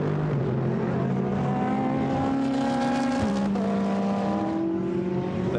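A Mercedes GT race car roars past on the Paul Ricard circuit during a Blancpain GT Sports Club race, its loud engine note rising and falling as it passes near, with other engine tones blended in.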